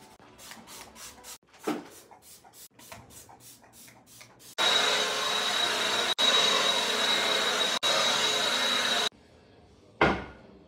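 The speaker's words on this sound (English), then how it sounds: "carpet cleaner" A carpet cleaner in a bedroom runs loud and steady for several seconds with a droning motor roar and brief dips, preceded by rhythmic scrubbing and clattering and followed by quiet.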